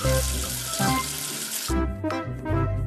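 Running water washing soap off a letter in a kids' alphabet learning game, a loud gushing tap-like stream that stops abruptly midway, then returns in shorter splashy bursts.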